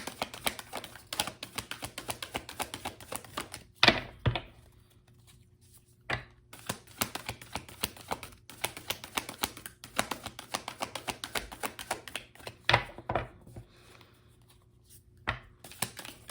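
Soft, rapid riffling and tapping of tarot cards being shuffled, coming in brief bursts with quiet pauses between them, close by.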